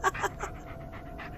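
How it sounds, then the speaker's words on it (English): A dog pants softly and whimpers in a Blair Witch game scene, with quick faint breaths and a thin high whine close by and no talking. "Oh, that's my dog."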